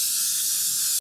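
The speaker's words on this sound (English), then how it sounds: "I'll just spray a little bit of coconut oil as well," Coconut oil sprayed onto a baking pan makes a steady, close, loud hiss with no talk, lasting about a second before cutting off abruptly.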